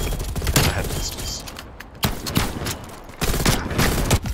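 Bursts of video game gunfire from an M16 rifle, several rapid volleys with short pauses between them, loud and close, mixed with game effects and occasional voice.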